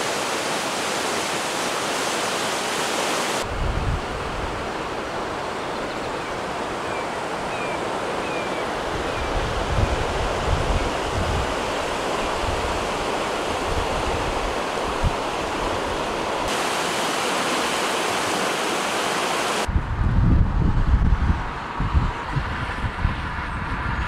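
A creek swollen by record Ohio flooding rushes past as a loud, steady broadband roar of water, with wind gusts buffeting the microphone at intervals.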